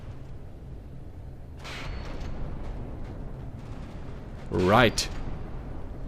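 Armour-piercing shells strike and explode in From the Depths, a loud rising burst near the end standing out over a continuous rumbling battle background, with a voice speaking briefly.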